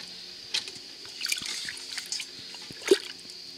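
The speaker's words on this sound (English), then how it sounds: "And add your material to your dye bath. Get it nice and submerged." Fabric pushed down into a simmering natural autumn dye bath for khaki brown, with soft watery trickles, drips and gentle sloshes, a few brief splashy bursts over a quiet steady background, close by and without speech.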